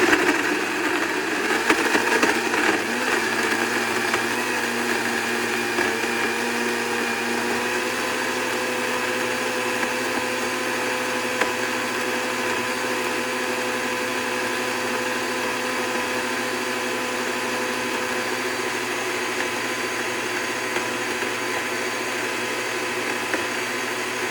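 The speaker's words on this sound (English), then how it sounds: "while that cauliflower was blending" A countertop blender with a soup function whirs at high speed, puréeing cauliflower with other ingredients in a loud, steady motor drone that holds evenly throughout, alone without talk.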